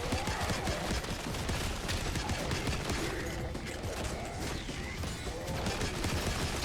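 The Maelstrom shotgun fires in a Black Ops 6 Zombies match with napalm burst ammo, in a dense, continuous barrage of game gunfire and explosive effects. It stays loud and unbroken throughout.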